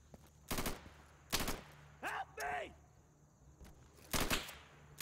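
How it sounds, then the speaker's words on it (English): Bursts of gunfire in Insurgency crack past overhead, three or four loud short volleys separated by quieter gaps, with a muffled distorted effect and brief talk in between. "Can you please not shoot over my head?"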